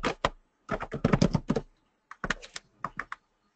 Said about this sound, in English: I'm typing his email address in the chat box here.